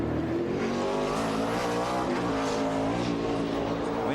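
NASCAR Cup race cars at Sonoma accelerate off pit road, engines droning loud and steady with rising pitch, alongside a commentator talking over the noise.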